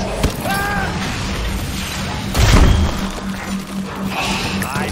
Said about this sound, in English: Cover me while I reload!